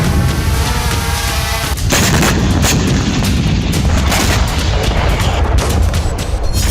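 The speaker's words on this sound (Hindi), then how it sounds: "कई विस्फोट हुए और इसी के साथ रूस के अंदर विनाश की बड़ी आग भड़क गई" Drone strike explosions in Russia: loud, dense booms and blasts crowd the whole stretch, with sharp impacts landing repeatedly over a continuous roar, close and heavy, with no voices.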